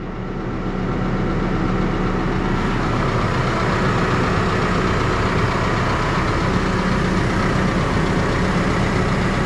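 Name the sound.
tractor engine idling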